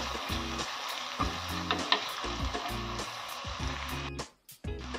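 Onions fry in a pan for a traditional Maharashtrian dry cowpea pod dish, a close, steady sizzle with a few stirring scrapes and a brief dip to near silence before the frying resumes, no talking.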